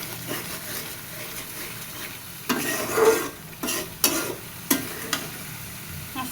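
A spice paste for chicken curry being stir-fried in a pan: a soft sizzle broken by several bursts of scraping and stirring with a spatula, close and alone.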